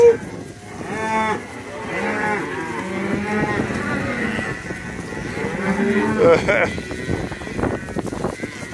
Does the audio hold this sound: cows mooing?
yes